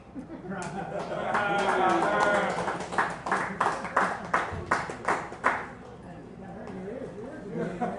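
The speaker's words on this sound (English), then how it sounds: "Thanks for clapping" Audience clapping in a bar venue, a burst of loose, uneven hand claps that thins into scattered sharp slaps, with voices talking over it.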